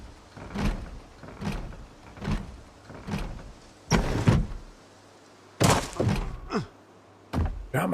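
A window being opened in the zombie survival game Project Zomboid, a series of repeated dull thunks and sliding scrapes at a steady rhythm, followed by several sharper, louder knocks near the end.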